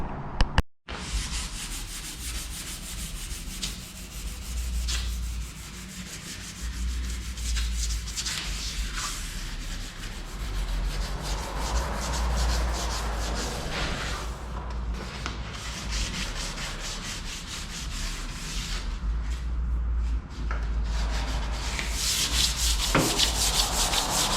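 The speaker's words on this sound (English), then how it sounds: "Stuff does sand pretty nice." A car body surface is sanded by hand ahead of a body wrap, a steady, close, loud rubbing rasp that runs without a break and with no talking.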